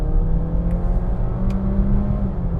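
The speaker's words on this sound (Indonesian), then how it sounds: "Kita coba kickdown sedikit." A 2019 Honda Accord with a 1.5 L turbo engine hums under kickdown acceleration, a steady, smooth drone with a rising tone heard from inside the cabin.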